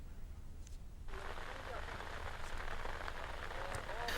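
Steady rain falls on Assam tea gardens where women keep working, a dense hiss of drops hitting leaves and surfaces that grows heavier after the first second.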